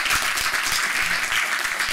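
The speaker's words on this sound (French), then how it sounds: "Merci d'applaudir à nouveau Alexandre Kinski." Audience applause closing a French-language conference talk on music and cinema, a dense steady wash of many hands clapping at once, filling the whole moment without any voices on top.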